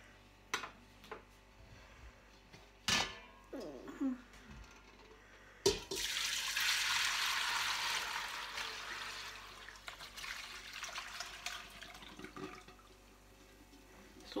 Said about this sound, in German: Ich nehme jetzt da ein Sieb und gieße das Ganze, den Rest noch in eine Schüssel ab.